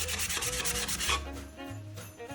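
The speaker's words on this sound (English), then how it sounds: "So take some time to really sand any areas like this because you want this completely smooth for your makeover." A thrifted wooden piece being sanded smooth by hand, with about a second of quick, rhythmic, close scratchy rubbing strokes followed by quieter shuffling.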